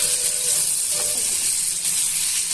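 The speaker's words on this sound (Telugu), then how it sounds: "ఫ్లేమ్ని మీడియం టు లో అడ్జస్ట్ చేసుకుంటూ ఫ్రై చేసుకోండి" Thin potato slices frying in oil in a pan on a stove over medium-low flame, giving a steady, close hiss and sizzle with no break through the whole stretch.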